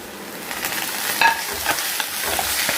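Tomatoes sautéing in a pan for fish curry: steady sizzling and frying with soft stirring scrapes, a continuous crackly hiss at moderate volume with no voices.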